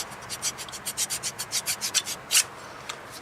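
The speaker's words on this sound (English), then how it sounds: "you just want to get all of the extra rust off of there" Rust is scraped off the rear brake parts of a 2015 Toyota RAV4 in quick, regular back-and-forth strokes, about four per second. The rasping sound is close and moderately loud, with one heavier stroke near the end.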